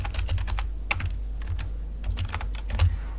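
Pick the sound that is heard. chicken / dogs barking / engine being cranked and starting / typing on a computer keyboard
typing on a computer keyboard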